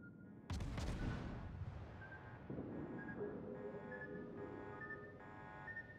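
Naval gunfire in the World of Warships video game, a loud booming salvo early on that decays into a rumble, followed by steady engine drone and repeated electronic alert tones, with no talk.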